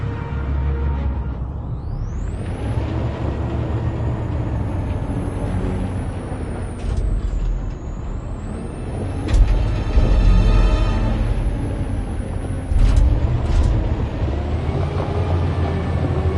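A truck driving in a video game, a loud continuous engine rumble with a rising whine and brief hissing bursts, steady throughout with no talk.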